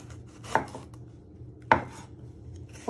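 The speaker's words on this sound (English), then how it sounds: "So you're just slicing them." Knife slicing vegetables into strips on a chopping board, two distinct sharp chops about a second apart, close and clear with no talking.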